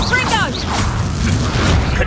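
Confringo fire spell explosion in Hogwarts Legacy, a short whooshing cast followed by a dense low boom and crackling rumble, loud and close, with a shouted voice at the start.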